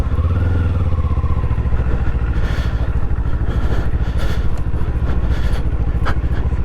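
A Kawasaki Eliminator motorcycle rides off across a hard-packed dirt area, its engine chugging in a loud steady rhythmic pulse close by, with light clatter and no talk.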